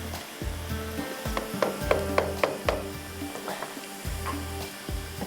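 Ingredients for a beef stew sizzle loudly in a hot pan, with a rhythmic series of stirring scrapes and clatters over the steady frying, close up with no talk.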